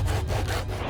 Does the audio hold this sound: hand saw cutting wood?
yes